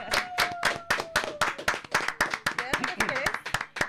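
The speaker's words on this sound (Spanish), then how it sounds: "Aplauso grande." An audience at a talk on faith and politics in Spanish gives sustained, close, rhythmic clapping for several seconds, with voices calling out over the hands.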